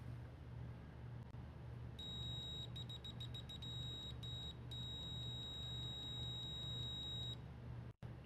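Continuity beep from a Q-MING FSK-830D+ multimeter, a thin high tone first chattering in quick broken pulses, then holding steady for several seconds, faint over a constant low background hum.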